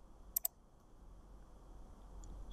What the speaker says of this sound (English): I can press S key on the keyboard